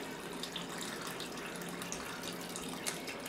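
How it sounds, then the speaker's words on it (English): Foamy yeast liquid poured into flour for oatmeal bread, a continuous soft splashing trickle running evenly for a few seconds, close and fairly quiet with no talking. "I'm going to go ahead and add that to my flour."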